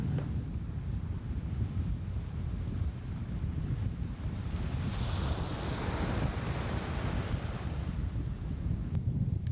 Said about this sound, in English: The winds blow over the white sand beaches.